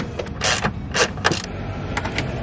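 Black fasteners on a Jeep Wrangler Sahara's removable top being unscrewed by hand, giving a few short ratcheting creaks and clicks in separate bursts, close and moderately loud with no talking.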